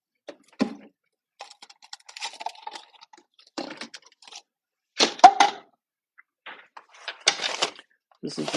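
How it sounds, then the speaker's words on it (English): Close-up workshop handling noises as a cup is fetched and gloves are pulled on: scattered rustles, light plastic knocks and rubbery snaps come in short irregular bursts with quiet gaps between them. "This is the sound of me getting a cup and putting gloves on."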